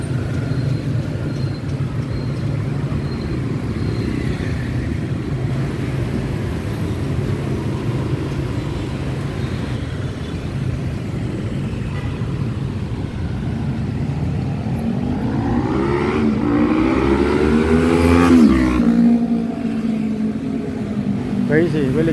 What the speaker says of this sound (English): Sometimes they drive over the road, they drive across, up and down.